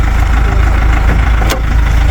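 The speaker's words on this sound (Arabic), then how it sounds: "هذا المحرك ديالها، هنا الاخوان محرك مزيان" A used car's engine runs at a steady idle at a used-car market in Fez, a loud, close, continuous rumble with one brief sharp click partway through and no voices.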